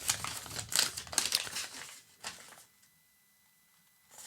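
Paper instruction leaflet from a budget delay pedal's box being handled, giving close, crisp crinkling and rustling bursts for about two and a half seconds before fading into near silence.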